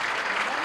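Audience at a political rally of cooperative members breaks into dense, steady applause, a loud continuous wash of many hands clapping together for the whole short stretch.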